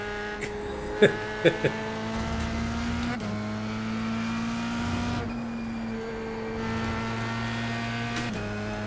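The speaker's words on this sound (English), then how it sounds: "The car makes a pretty cool, horrible vibrating noise when you don't gear up in time." A race car engine in a driving video game drones with a steady high-pitched tone held too long without shifting up, giving a buzzing vibration, with a few sharp knocks early on.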